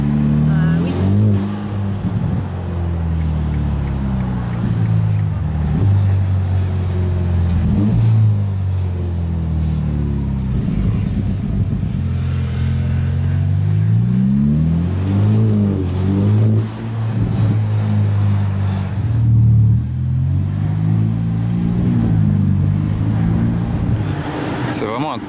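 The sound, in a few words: Ferrari turbo engine accelerating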